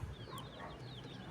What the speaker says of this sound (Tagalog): Ito na yung manok natin